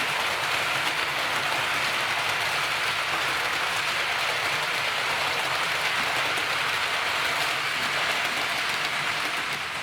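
An express train pounds through at speed during a coupling test, a loud, steady broadband roar of wheels on rail holding unbroken for the whole stretch with no voices.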